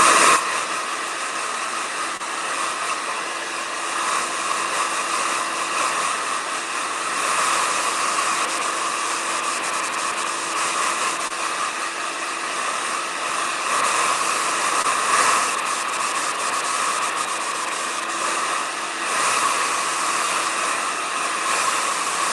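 A hair dryer blows steadily across wet acrylic paint on a lettering piece, an unbroken airy whoosh that holds at an even loudness throughout.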